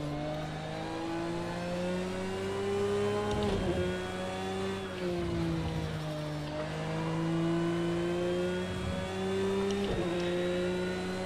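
BMW M3 engine in the Project Cars 2 racing game, a loud continuous drone that rises and falls through several revving and shifting cycles, heard alone with no talk.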